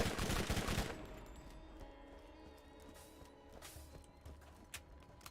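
Rapid submachine-gun fire from the Borderlands video game erupts as a loud, dense burst in the first second, then fades to quieter game ambience with sporadic faint shots and clicks.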